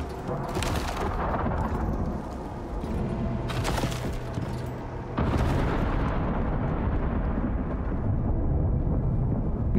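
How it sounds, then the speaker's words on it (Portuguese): Thunderstorm with lightning in the survival video game Icarus: steady loud rumbling storm noise with sharp broadband cracks of thunder near the start and around the middle, continuing as a dense roar to the end. "Porque é muito perigosa a tempestade de raios"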